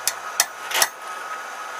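A forged steel bottle opener is hammered on an anvil: three sharp, ringing metallic strikes in quick succession, close and loud, with no talking.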